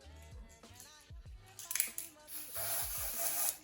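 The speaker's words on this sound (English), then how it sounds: "I spray it on the inside." Lace tint spray misted onto the inside of a wig cap: a couple of quiet, airy hissing bursts after some faint handling clicks, close and soft.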